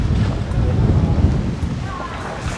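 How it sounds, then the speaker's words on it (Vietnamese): Heavy rain pours down in a steady, loud, dense wash of noise that continues throughout with no voices. "Cơn mưa to thật đấy."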